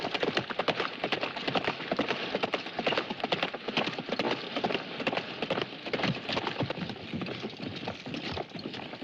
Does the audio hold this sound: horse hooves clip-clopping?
yes